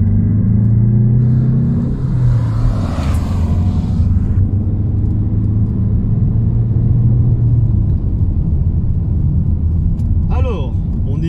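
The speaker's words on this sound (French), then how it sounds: "Donc je passe à seconde et on va faire une accélération" A Peugeot 508 SW estate with a 150-horsepower turbo engine accelerates in second gear from around 2000 rpm, a loud, steady in-cabin engine drone and road rumble that builds evenly throughout, with a voice talking over it.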